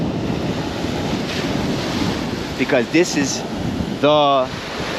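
Ocean waves and wind at the shore make a constant rushing roar with gusty microphone buffeting, while a person speaks briefly near the end.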